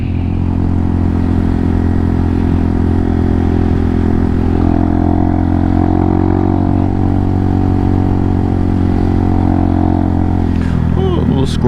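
Warmed-up JFG Hawk 250 motorcycle engine idling close by, a steady low throb with even harmonic drone and slight mechanical clatter throughout, with no talk over it.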